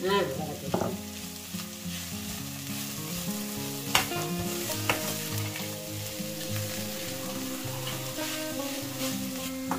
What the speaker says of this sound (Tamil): வதக்கலாம்